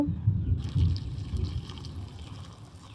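Boiling water pours steadily with a low, rushing gurgle, heaviest at the start and then continuing as a softer, even splash, over meal maker soya chunks.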